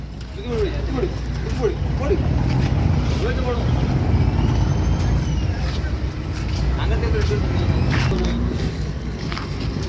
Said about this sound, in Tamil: ஆமாம் போட்டு வந்துட்டு இருக்குது கடலுக்கு போகிறோம்